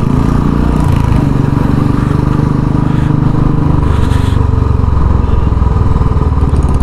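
A Royal Enfield Bullet motorcycle engine thumps steadily while being ridden on the road between Manali and Kasol, a loud, continuous low rumble with a dense, rapid beat close to the microphone.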